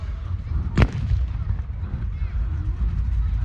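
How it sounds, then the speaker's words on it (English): A single heavy artillery boom bursts out at a WWII battle reenactment staging the capture of a Tiger tank, sharp and distant over steady outdoor rumble and wind noise. "The Allies have brought some artillery to bear."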